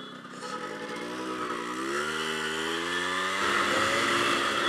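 A Yamaha RX100 two-stroke motorcycle ridden in Pokhara, Nepal, its engine droning loud and steady, the pitch climbing as it revs, with no talking.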